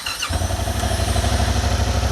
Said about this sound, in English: this is what it sounds like from the factory